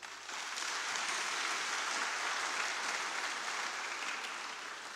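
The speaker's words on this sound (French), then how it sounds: "On peut s'applaudir pour cela." A parish congregation applauds at Sunday Mass, a broad, even roar of many hands clapping that starts abruptly and holds steady for several seconds, slightly distant in a large space.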